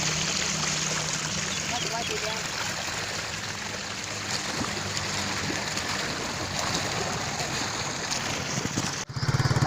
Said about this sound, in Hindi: अब हम मोटरसाइकिल पे जा रहे हैं।